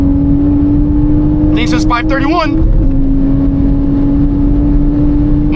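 Manual Toyota Supra held in fourth gear on a dyno, a loud steady close engine drone under load with a person briefly speaking over it.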